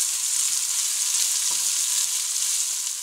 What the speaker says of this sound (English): we're going to go ahead and add in our onions. I'm going to mix this and let them saute for about 5 minutes